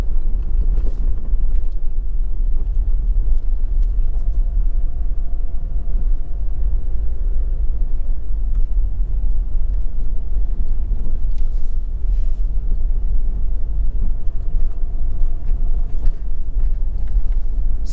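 A car driving along a road between Four Paths and Line Gate in St. Elizabeth, Jamaica, a steady low rumble of engine and tyres with wind buffeting the microphone throughout, no voices.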